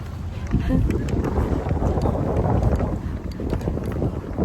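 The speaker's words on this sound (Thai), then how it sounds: "ลมพัดแรงมาก" Strong wind blows outdoors as a continuous roar buffeting the microphone, loud and close, while voices talk underneath it.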